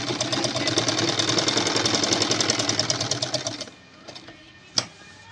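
A sewing machine stitches steadily along a neckline edge, its rapid, even mechanical rhythm running close and loud for several seconds before stopping, followed by a few light clicks.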